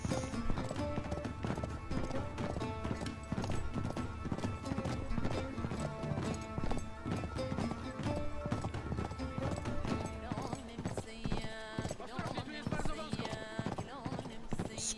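Horse hooves clip-clop steadily through a dense, loud Uncharted 3 game soundtrack, galloping along without pause while music and effects play over them.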